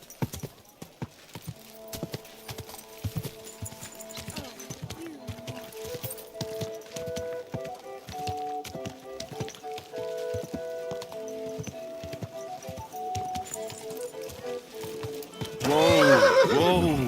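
Horse neighing and hooves clip-clopping in the medieval game Kingdom Come: Deliverance II. Steady hoof clops run throughout over tonal music, and a loud neigh bursts out near the end.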